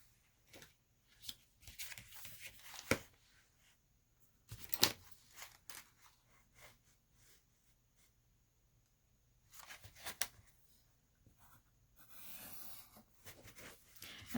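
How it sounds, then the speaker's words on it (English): Decorative craft scissors cutting paper for junk journal pages, a few short crisp snips and rustles in scattered bursts with quiet gaps between them, close and faint. "And I'll just use the same decorative scissors as I used on the other one."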